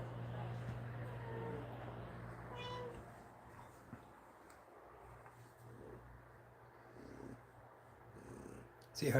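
A cat purrs in a steady low rumble, fairly faint and close, with a few brief sounds and a louder noise at the end.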